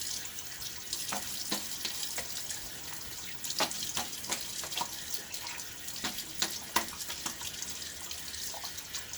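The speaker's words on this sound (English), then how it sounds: "a little quick rinse" Tap water runs steadily into a sink while a safety razor, a Gillette Tech, is rinsed under it during a wet shave, with brief clicks and splashes breaking through the flowing stream.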